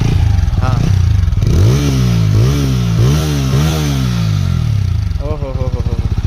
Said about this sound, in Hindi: स्टार्ट कर ले भाई, बढ़िया। हम पहले आवाज़ सुनेंगे, आवाज़ कैसी आ रही है।